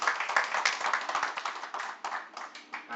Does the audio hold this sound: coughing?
no